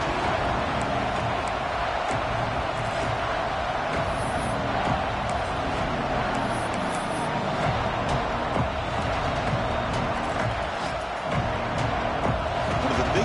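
Football stadium crowd cheering on third down in a tight early-season game, a steady broad roar that fills the whole stretch at moderate level beneath a commentator's voice.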